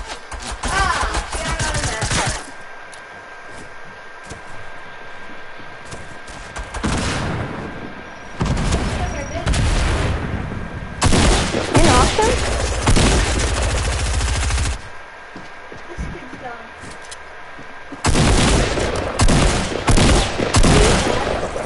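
Gunfire in Fortnite, loud bursts of rapid shots in several clusters separated by quieter gaps, up close and dominant, with little speech.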